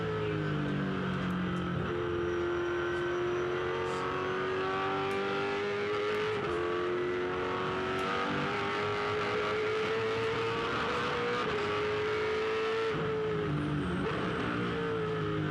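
A 2007 V8 Supercar's engine heard from the in-car camera on Rick Kelly's car at Barbagallo, a loud continuous roar that rises and drops as it shifts through the gears, with no one speaking.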